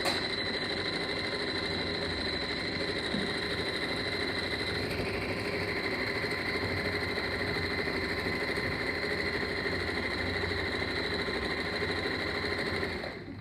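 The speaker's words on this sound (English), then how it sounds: "we just bring the needle into the fabric, take the foot, keep the needle in the fabric, and then we just turn it so we do a nice corner" A sewing machine runs steadily, stitching fabric while the needle stays down to pivot around a corner; the motor hums evenly and close throughout, with a slight shift in tone partway through and no talking.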